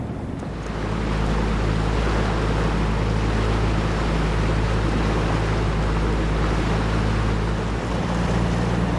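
Wake waves from a passing cruise ship in Blackfish Sound wash steadily against a small boat, a loud continuous rush of water with a low engine hum and wind buffeting the microphone throughout.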